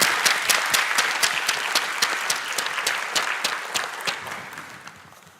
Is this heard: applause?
yes